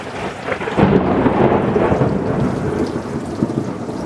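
Thunder rumbles through a building thunderstorm as rain begins, a loud deep roll that swells after the first second and sustains over a wash of falling rain, with no voices.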